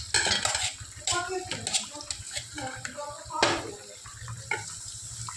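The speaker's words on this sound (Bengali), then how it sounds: "এখন জল দিয়ে ওটাকে আমি ফুটতে দেব।" Water goes into a pot of chanar dalna curry with potatoes, clattering and splashing against the metal with sharp clinks of a utensil, under a voice speaking nearby.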